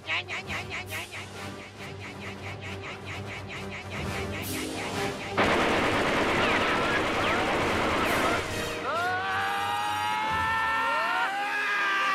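Guns fire in rapid, sustained bursts with whining ricochet-like tones near the end, mixed with voices and engine-like rumble, loud and close.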